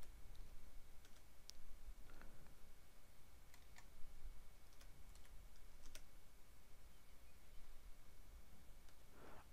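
Scattered keystrokes on a computer keyboard during end-of-day batch closing, soft clicks in short irregular bursts with pauses between them, faint and close against a quiet background.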